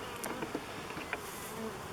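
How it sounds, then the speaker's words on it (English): Bees buzz around an open beehive as smoke is puffed across the frames, a thin, steady hum with a few brief louder passes of individual bees close by. "A couple of bees there taking a swipe at me but missed."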